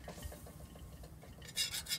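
A utensil stirring sausage and flour into a roux in a pan over an off-grid campfire, soft repeated scraping strokes with a brief louder clatter near the end, quiet and close.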